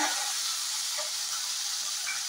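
Small shallots sizzle steadily in a hot pan while a radish chutney is being made, a continuous close frying hiss with no talk over it.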